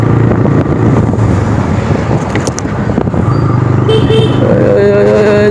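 Heavy road traffic in a jam, heard from a motorcycle on the way from Kolkata to Purulia: a loud, constant drone of engines and road noise, with brief horn toots toward the end.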